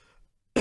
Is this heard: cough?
yes